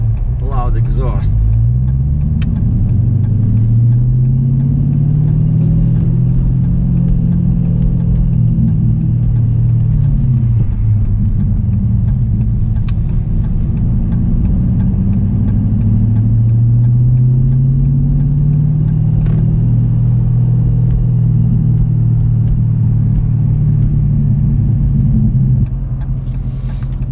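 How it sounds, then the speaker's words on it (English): A truck with a loud exhaust rumbles along while driving, a deep droning engine note that rises and falls through gear changes, heard close and continuous with someone talking over it. "I know you guys cannot hear me when I'm driving because of the loud exhaust."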